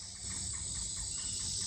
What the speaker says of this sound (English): There's a lot of gnats out here, and the cicadas.